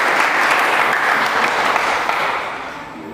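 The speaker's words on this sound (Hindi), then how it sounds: "एक बार फिर से अपने लिए जोरदार तालियां" A crowd at a Hindi shayari poetry gathering breaks into dense, steady applause that holds strong for most of the stretch before tapering off slightly at the end, with no voices over it.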